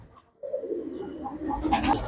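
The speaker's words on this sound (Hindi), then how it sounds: "और दोस्तों ये रहे जिया भाई के कबूतर" Hyderabadi pigeons kept in a loft give a soft, low cooing call, one short rolling phrase heard close by against quiet background noise.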